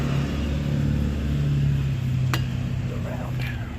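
A truck passing close by a parked car: a heavy low engine rumble with a droning hum that holds steady for a few seconds and then eases slightly.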